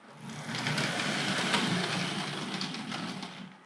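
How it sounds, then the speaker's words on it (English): A Hornby Dublo GWR 0-6-2 tank locomotive's small electric motor with a replacement armature runs on low power, giving a steady whirring buzz that holds evenly for several seconds, close and moderately loud, with no talk over it. "See if we can have a quick look at that motor. Let's give that a tiny bit of power."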